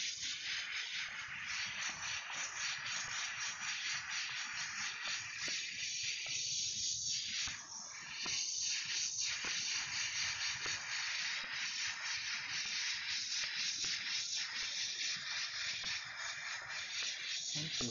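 An airbrush sprays paint onto a shirt with a steady, close, airy hiss that runs throughout, varying slightly as the spray passes over the fabric.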